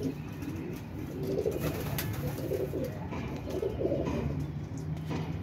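Pigeons coo in soft, repeated low throaty phrases close by, over a steady background hum.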